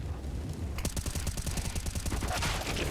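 Rapid automatic gunfire rattles in a dense, continuous burst during a competitive Counter-Strike match, loud and close with no talk over it.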